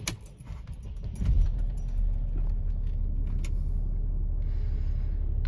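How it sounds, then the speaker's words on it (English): A Mercedes ML350 W164 engine cranks and catches around the one-second mark, then settles into a steady low idle that continues to the end, with a brief jingle of keys early on. "Let's start up the vehicle."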